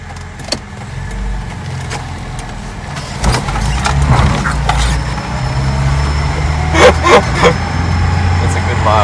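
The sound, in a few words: 1991 Lada Niva 1600 ute engine driving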